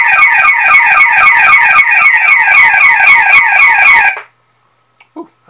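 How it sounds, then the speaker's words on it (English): An external speaker on a security voice-siren unit blares a loud, rapidly warbling electronic siren tone for about four seconds, then stops abruptly, leaving near silence with a couple of faint knocks. "instead of just a standard whooping siren, I have the voice siren with a warning like this"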